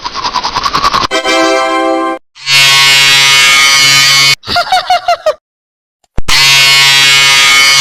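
A cartoon character brushing teeth, heard as loud buzzing, scrubbing bursts broken by short pauses, with honking comic sound effects and no talk.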